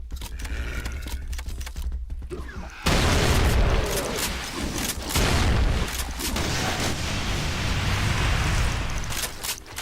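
An explosion in the game Factorio sets off a sudden loud, rumbling boom a few seconds in, which then gives way to a long, noisy roar with more heavy thuds mixed in.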